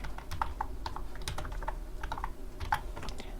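Computer keyboard typing of a short phrase, a quick irregular series of light key clicks spread over a few seconds, close and fairly quiet with no voices.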